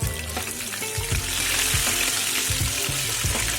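Tilapia fish pieces fry in hot oil, a dense crackling sizzle heard up close with a few soft knocks and scrapes from the pan, loud and continuous throughout.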